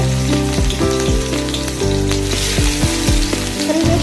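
Onions fry in hot oil in a kadai with a loud, dense sizzle that continues throughout. A low, sweeping tonal sound runs underneath.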